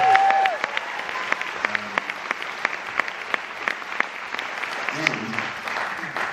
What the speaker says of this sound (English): a big round of applause for Russell for asking me along